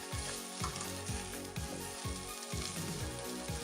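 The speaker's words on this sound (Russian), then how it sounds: "я слегка обжариваю немного копченых свиных ребер" Steady, loud sizzling of smoked pork ribs frying in a hot pan, with a soft rhythmic low thumping underneath.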